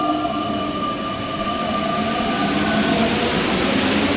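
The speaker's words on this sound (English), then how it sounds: "Metro train." A metro train runs past, loud and close, with a steady rumble, a continuous rushing hiss and a thin high-pitched wheel squeal throughout.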